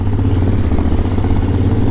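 Honda X-ADV motorcycle engine while riding, a steady, loud low drone that holds an even tone throughout with no voices.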